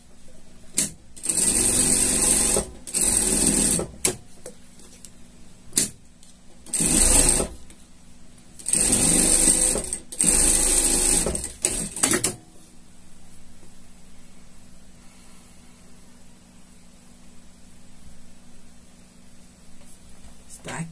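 Close sewing machine running a safety seam on a shark costume, several bursts of fast whirring stitching separated by short pauses, then a quiet hum.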